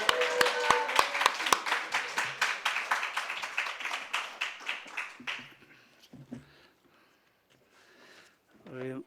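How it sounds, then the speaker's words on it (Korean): A church congregation claps along in a steady, fast rhythm of sharp hand claps, loud at first and fading out, with voices speaking and calling near the end. "박수하겠습니다"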